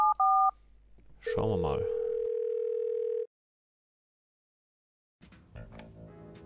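Phone keypad beeps from the Thimbleweed Park video game, then a steady dial tone held for about two seconds after a short spoken remark, followed by silence and then game sounds.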